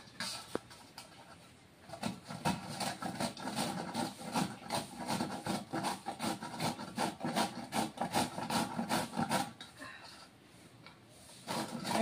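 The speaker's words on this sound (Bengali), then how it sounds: "বন্ধুরা এখন পেঁপেটা ঘষে নিব।" Green papaya being grated by hand for a Bengali vegetable dish, a steady run of rapid rasping scrape strokes, close and fairly loud, with a brief pause near the end.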